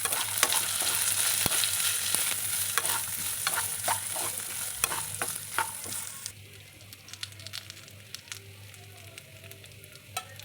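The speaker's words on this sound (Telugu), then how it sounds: "కొద్దిగా చింతపండు, చిన్నుల్లిపాయలు వేసుకొని వేయించుకోవాలి" Green chillies, tamarind and small onions fry in a pan, sizzling steadily while a utensil scrapes and clicks against the metal in irregular stirring strokes; the sizzle softens partway through.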